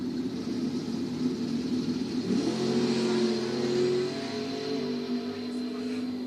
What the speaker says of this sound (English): he's in the beautiful 65 Dodge Coronet, 1020 for him. Corey Duncan, the 67 Camaro